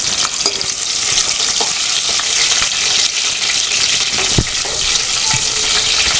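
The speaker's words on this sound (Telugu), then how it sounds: "కొంచెం 2 పచ్చిమిరపకాయలు చిన్న కట్ చేసి వేసుకుంటున్నా." Chopped green chillies hit hot oil while fish fry is being made, producing loud, continuous sizzling and crackling close to the pan, with a few sharper pops and stirring scrapes.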